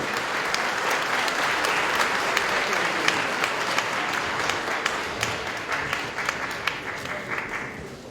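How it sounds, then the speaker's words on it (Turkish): Sustained audience applause fills a concert hall at a Kastamonu folk music closing night as guests are welcomed onto the stage, dense steady clapping with a few sharper claps standing out, tapering slightly toward the end. "alkışlarınızla sahneye alalım efendim"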